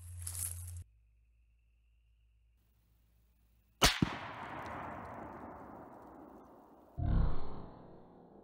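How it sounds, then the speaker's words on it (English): A single sharp, loud rifle shot from a .30-06 firing black tip rounds into Level 4 body armor, standing out alone after a quiet pause and fading in a long outdoor decay, followed by a brief thud. "We're gonna be shooting the 30-06 black tip."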